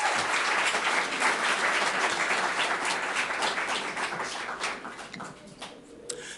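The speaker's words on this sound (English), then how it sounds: "let's give another round of applause for Steve Ford and Rob Ford." A storytelling-event audience bursts into steady applause, dense clapping from many hands that holds strong for several seconds and then gradually thins and fades.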